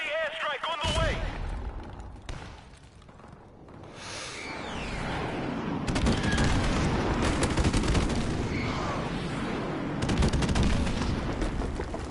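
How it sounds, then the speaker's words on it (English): Airstrike explosions in Call of Duty MWR multiplayer land as a heavy rolling barrage of booms and rumbling blasts, with gunfire crackling and a voice talking over parts of it. "Friendly airstrike on the way."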